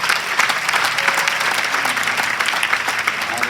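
A church congregation claps together in steady, dense applause, loud and close throughout, with a few voices faintly mixed in.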